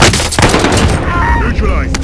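Enemy gunfire in a first-person shooter, played on an Intel i7-8550U laptop, erupts as loud bursts and cracks, with a voice shouting over the shooting.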